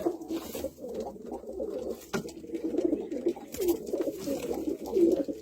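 Pigeons coo in soft, repeated throaty phrases at close range in a loft, with a brief sharp knock partway through.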